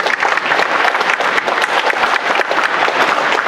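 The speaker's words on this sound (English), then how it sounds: "let's give them a big round of applause" An audience gives a dense, sustained round of applause for election candidates at a school mock debate, many hands clapping steadily and loudly throughout.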